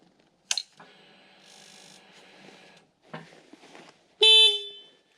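A Honda CB500X adventure motorcycle's horn tested after a dash and plug repair: a short beep, a longer steady honk, then a brief blip and a final loud blast, close by with quiet gaps between.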